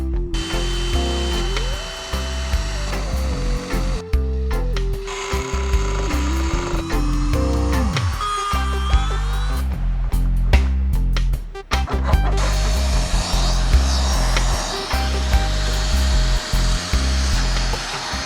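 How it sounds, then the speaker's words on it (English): A power tool cutting a section out of the front bumper of a Renault 5 GT Turbo under restoration, running loud and continuous with a shifting whining pitch and brief dips and restarts, no talking. "So I'm going to cut that out now."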